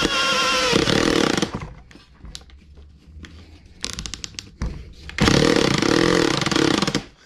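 A power drill fitted with a big drill bit runs on hammer setting, giving loud, harsh rattling bursts that start, drop away for a few seconds amid quieter knocks, then roar again.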